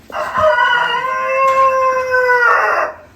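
A loud, drawn-out rooster-like crow from a chicken in a backyard coop, one sustained harmonic call lasting about three seconds with no talk over it.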